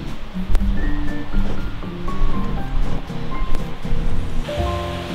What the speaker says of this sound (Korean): 지리산에서 흘러내린 화엄사계곡은 비록 체구는 작지만 힘찬 계곡 소리가 무척 상쾌하다